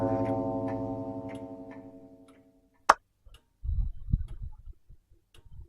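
A clock in the horror video game My Uncle Who Works For Nintendo chimes with a loud, sustained ringing tone that slowly fades over about two seconds, followed by a sharp click and a few soft low thuds.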